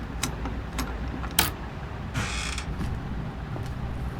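A door creaking open in the Granny Chapter 3 horror game, drawn-out creak with metallic clicks and rattles, plus a sharp clack and a scraping rush of mechanism noise, fairly close and alone without talk.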